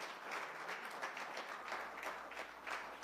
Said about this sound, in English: Give a quick applause.